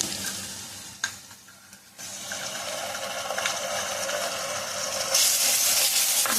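Masala fries with browned onions in a pan for fish curry, a close steady sizzle that drops briefly, then returns louder with a hissing burst near the end, without talk.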